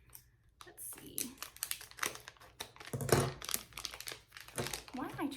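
Crinkling of a plastic makeup pouch being worked open, with bursts of rustling and sharp crackles in an irregular rhythm, close up, while someone talks alongside.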